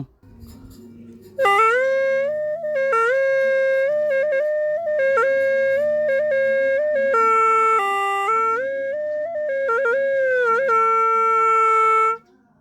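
A reedy Phu Thai free-reed pipe plays a sustained, wavering melody with steady drone notes underneath, loud and close, holding long tones with brief pitch shifts.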